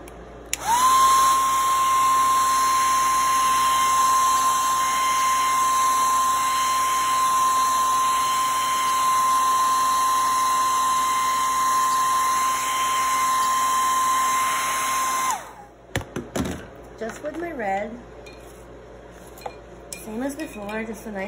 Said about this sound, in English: I'm gonna blow this dry and do a second coat.